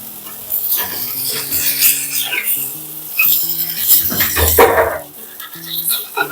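Pumpkin thalipeeth frying in a little oil on a griddle gives a soft, steady sizzle, broken by scraping and clinking noises from a utensil nearby. There is no talking.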